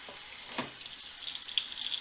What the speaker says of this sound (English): just going to pour some water in here